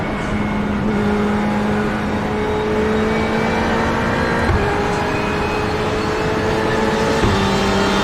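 GTE race cars in the iRacing video game at Daytona: a steady, loud engine drone with sustained tonal whine, with pitch shifts as other cars pass by close, continuous throughout without speech.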